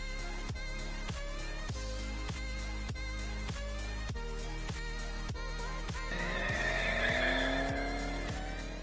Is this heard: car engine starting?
yes